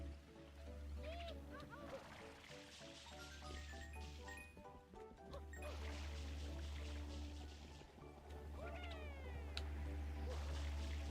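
A cat meows several times inside a Super Mario video game, mixed under game music and other in-game effects at a moderate level.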